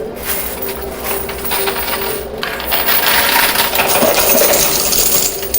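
Coins in a coin pusher arcade machine clatter and jingle continuously and loudly up close, a dense metallic cascade that swells slightly toward the end, with no voices.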